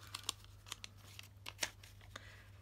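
Scissors trimming paper snip in a quick irregular series of crisp, close cuts over a low steady hum, quiet and with no talking.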